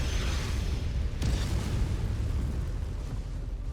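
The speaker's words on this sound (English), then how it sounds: "Oh, I'm not sticking around for artillery." Artillery shells explode in the MechWarrior 5 mech combat game, a continuous rumbling barrage with a sharp crack just over a second in, followed by sustained low booming that stays heavy and dense throughout.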